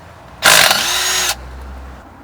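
Power tool spinning out the bottom screws of a front differential cover, a single loud, close, high whirring burst of just under a second that stops abruptly, leaving a low background hum.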